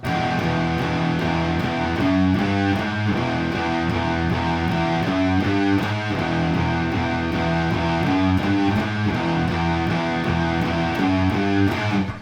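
A heavy, distorted electric guitar riff repeats over and over in a steady, driving rhythm, loud and continuous with no talking.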